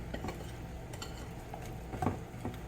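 Pineapple cornbread batter stirred in a bowl, with soft ticking and scraping of a utensil against the bowl, quiet and close with small uneven knocks.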